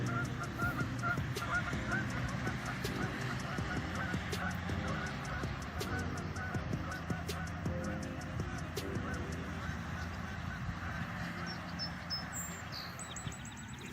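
Geese near a library pond honk repeatedly from a middle distance, irregular bursts over steady outdoor background noise, with occasional traffic in the distance.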